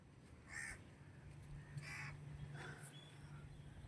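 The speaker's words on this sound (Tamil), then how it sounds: "ஒரே காக்கா குருவி சத்தம்தான்." Crows cawing a few times in a home garden, faint and somewhat distant calls over a low steady background hum.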